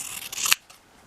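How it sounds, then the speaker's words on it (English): Scissors snip through quilt binding fabric at a sewing machine, a close, crisp rasping cut that builds over half a second and ends sharply, followed by a faint second snip. "Now what I like to do with my scissors at this point is I like to take this and just trim this off."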